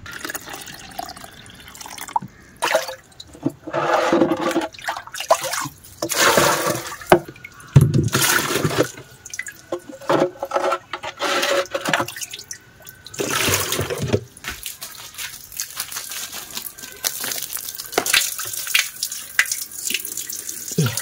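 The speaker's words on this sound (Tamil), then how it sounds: "கைஸ், இன்றைக்கி பைப்பில் தண்ணி இருக்குது." Water runs and splashes unevenly from a pipe for a long stretch, with bursts of gushing and dripping, fairly loud and close, no talking.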